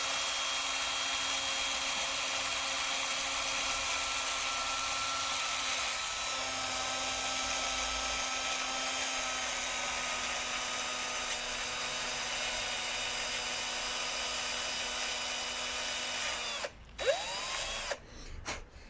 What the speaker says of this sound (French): je le frotte avec une brosse métallique